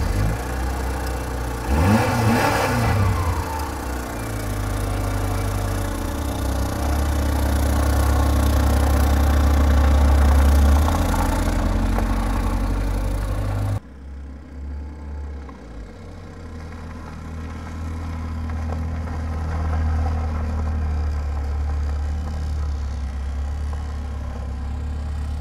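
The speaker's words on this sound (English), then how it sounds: "There is no need to stress the power generator" A portable power generator runs steadily as a cooling unit for a DIY car air-conditioning setup, giving a loud, continuous mid-pitched engine drone with a constant hum; partway through the tone drops and softens as the load changes.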